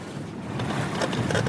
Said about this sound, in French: Pour l'atteindre, un seul moyen, la pirogue à balancier.